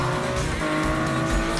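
A Nissan Skyline R34 with an RB26 engine in Need for Speed 2015 revs hard through a gymkhana run, with a loud, buzzing engine note, tire squeal and skidding, continuous and close.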